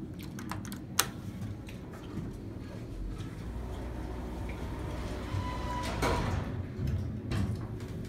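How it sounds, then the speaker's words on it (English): A Schindler hydraulic elevator door in a department store in St. Cloud, Minnesota, slides with a rough, rattling, clicking mechanical sound and a few sharp knocks, fairly close over steady motor hum. "that door does not sound good at all"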